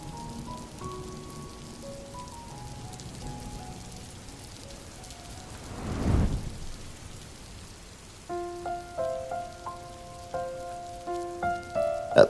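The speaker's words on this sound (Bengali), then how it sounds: "বাইরে বেশিক্ষণ দাঁড়িয়ে থাকতে পারবো না এক নাগারে বৃষ্টি হয়েই যাচ্ছে" Steady cartoon rain patters on a surface under light musical tones, with a whooshing swell midway and plinking notes near the end.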